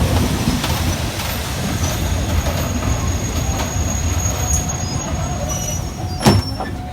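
A train hauled by a GEK 4007 diesel locomotive rumbles past close by in Thailand, with a continuous heavy roar, rattling wheels and a sharp metallic squeal near the end; no one speaks.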